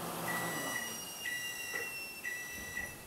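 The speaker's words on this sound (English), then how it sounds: "I'm waiting for the beep in 3" Electronic beeps from a retro video game console, a few short steady tones repeating at intervals over a faint background hiss.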